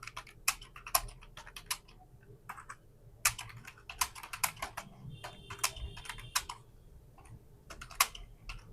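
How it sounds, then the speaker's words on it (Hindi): Fast, uneven clicking of keys on a computer keyboard during a Hindi and English typing test, close and fairly quiet, a continuous patter of separate taps without speech. "तो जैसा कि टाइपिंग शुरू हो गया है,"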